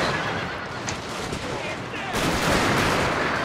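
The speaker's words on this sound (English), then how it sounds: "Some really good shooting down here." In a Shogun 2 Total War battle, musket volleys crackle as a dense, rolling fusillade that swells louder midway, blended with battlefield ambience and distant horse whinnies.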